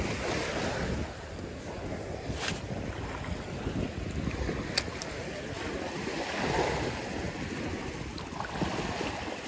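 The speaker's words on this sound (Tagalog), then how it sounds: "Malakas yung alon mga master." Strong sea waves slapping and surging around a small fishing boat off Isla Verde, with wind noise on the microphone and an uneven, rolling wash of water throughout.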